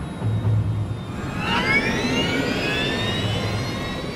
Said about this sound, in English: The Airbus has somehow become dangerously close to the ground.